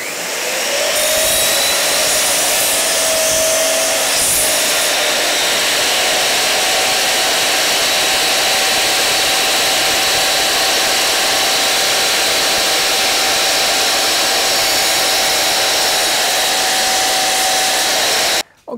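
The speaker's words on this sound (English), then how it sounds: "I've set my depth stop on my miter saw for 5mm, and I'm just going to trench this out" A miter saw set to a 5mm depth stop trenches out boards, its loud steady whine running continuously and unbroken almost to the end before cutting off abruptly.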